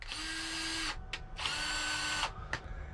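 A repaired cordless battery drill spins up in two long whirring bursts separated by short pauses, with brief blips in between, close by and alone.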